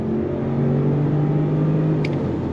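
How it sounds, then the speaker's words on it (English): A Range Rover LWB P530 SUV pulls away from a dead stop, its engine a steady low hum with a smooth rising whir heard from inside the cabin, moderate and even throughout. "we're gonna go on throttle from a dead stop"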